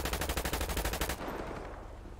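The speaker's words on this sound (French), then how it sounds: "Ça lui tire dessus!" Rapid automatic gunfire in a GTA roleplay game with French gendarmes, a fast even burst of shots for about a second that then cuts off, leaving a fading reverberant tail.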